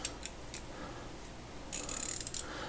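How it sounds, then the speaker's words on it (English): Pittsburgh Pro 3/8-inch drive flexible ratcheting T-bar being worked by hand, a few sparse clicks at first, then a rapid burst of close, sharp ratchet clicks with a final click at the end. "3/8 drive flexible ratcheting T-bar."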